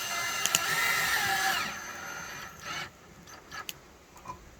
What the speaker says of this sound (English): this is the reason why I have a hook in my screwdriver, because I can hook it through the ring